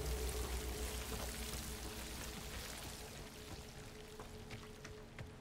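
Continuous running water in the video game Hogwarts Legacy, a steady watery pouring and trickling wash that stays fairly constant and slowly fades slightly, with faint drips and no talk over it.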